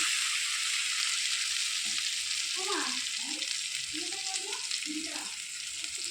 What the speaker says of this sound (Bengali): এটাকে আমি তেলের মধ্যে দিয়ে এবার নাড়াচাড়া করতে থাকবো